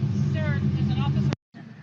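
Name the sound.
loud car engine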